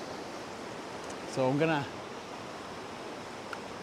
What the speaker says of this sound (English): I don't want to go stand in the rapids